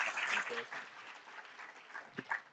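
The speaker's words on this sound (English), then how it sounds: "Can we have a loud round of applause for sir?" Applause from a panel-discussion audience, faint and distant, a short steady patter of clapping that tapers off, with a brief voice near the end.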